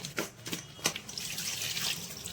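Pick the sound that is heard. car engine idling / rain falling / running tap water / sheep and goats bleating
running tap water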